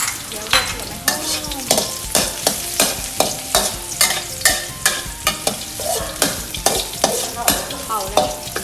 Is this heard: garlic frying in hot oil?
yes